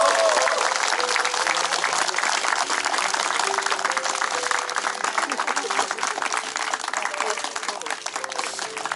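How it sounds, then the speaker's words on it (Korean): A crowd at an outdoor memorial and award ceremony for Jeon Tae-il applauds loudly, dense continuous clapping that stays strong for several seconds and tapers slightly, with a voice briefly audible beneath. "큰 박수 한번 보내주시기 바랍니다"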